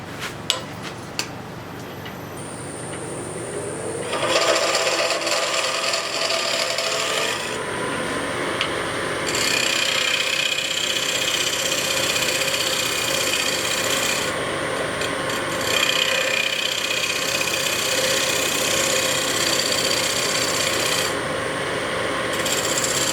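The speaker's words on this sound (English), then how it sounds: "that's why we want to use a scraper" Wood lathe with a scraper taking very light cuts while face-turning a bowl, a steady broadband rasping scrape that runs continuously and fairly loud after a brief start, with no talk.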